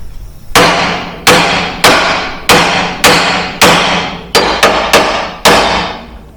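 A hammer strikes the pitman arm of a Jeep WJ to split it. About ten sharp, ringing metallic blows land close and loud in a steady rhythm, the last few coming quicker.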